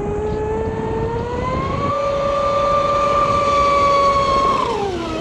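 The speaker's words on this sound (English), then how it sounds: "All right, now here we come, full throttle." A Castle 1650kv motor in a Sonicwake RC boat on 6S whines at full throttle, a loud steady high-pitched tone that climbs, holds, then drops as the boat passes.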